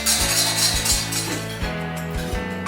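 A whisk strikes and scrapes a metal pan while beating hollandaise sauce, giving bright repeated clinks in an uneven rhythm. The sound is close and loud, with no voices.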